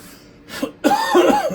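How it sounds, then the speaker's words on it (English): A single close, loud cough bursts out after a brief quiet breath, followed by a rough, voiced throat sound. "I didn't sneeze, I coughed."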